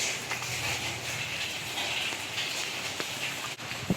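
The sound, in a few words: light rain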